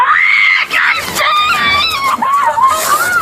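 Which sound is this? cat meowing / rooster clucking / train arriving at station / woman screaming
woman screaming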